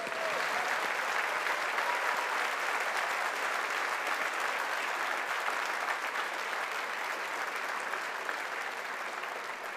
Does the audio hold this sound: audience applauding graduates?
yes